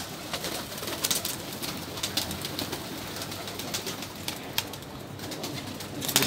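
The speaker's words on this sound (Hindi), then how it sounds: "इस वक्त ऑलमोस्ट कोई 100 से ऊपर ही कबूतर।" More than a hundred breeder and flying pigeons in a loft coo continuously, overlapping soft throaty calls with occasional wing flutters, moderately close.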